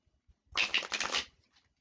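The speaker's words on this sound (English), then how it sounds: "None of the cards want to shuffle together." Tarot cards are riffle-shuffled close by in one quick, crisp burst of papery flutter lasting under a second. Faint taps come before and after it.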